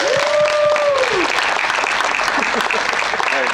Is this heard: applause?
yes